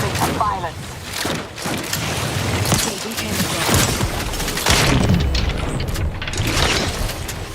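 A loud, booming explosion from The Outer Worlds 2 video game, with thudding blasts and crackling bursts that stay dense and sustained, heard alongside gameplay sound and mixed with talk.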